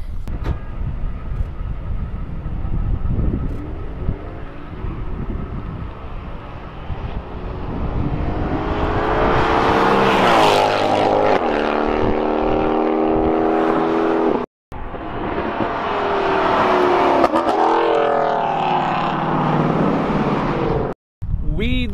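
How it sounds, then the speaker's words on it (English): S550 Mustang racing an AMG on a canyon road, a loud engine roar building and sweeping past with rising and falling pitch, followed by a second surge of revving, with occasional voices. "We're about to run the S550 Mustang against the A63 AMG."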